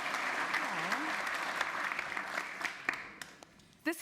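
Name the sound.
audience applause welcoming a performer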